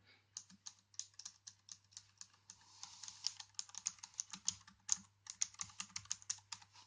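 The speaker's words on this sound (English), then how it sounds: "you've got a per key RGB mechanical keyboard which has the sound." Per-key RGB mechanical keyboard on a 15.6-inch gaming laptop clacks under steady typing, crisp close keystrokes in quick irregular bursts with a faint low hum beneath.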